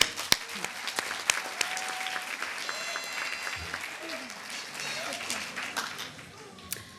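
Audience applause at a graduation ceremony, an afternoon session at NMIT in Nelson. Steady, moderately loud clapping runs through the whole stretch, with a few sharper individual claps and brief speech-like sounds on top.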